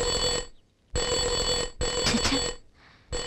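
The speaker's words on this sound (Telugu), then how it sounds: "రేయ్, ఫోన్ మోగుతుంది" A telephone bell rings loudly and close in repeated bursts, about three rings separated by short silences, in a comedy scene setting.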